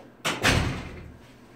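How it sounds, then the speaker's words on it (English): A room door swings shut with a sharp, close thud, followed by a short rumbling decay into quiet; a single closing with no talking. "Excuse me while I close my door"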